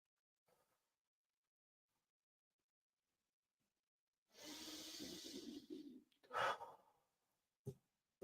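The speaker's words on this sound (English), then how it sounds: "let's take one more deep breath" One long, deep breath taken during a meditation session, a soft inhale and audible exhale close to the mic in a quiet room, followed by a brief sigh-like release.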